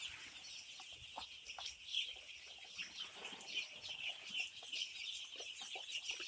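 Five-day-old chicks on a poultry farm cheep constantly in a high, busy chorus, with soft rustling and occasional wing flutters beneath, no talk.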